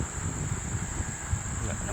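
A swarm of mosquitoes fills a house, with two factory fans running; a steady high-pitched whine hangs over a dense, restless low rumble, continuous and moderately loud throughout.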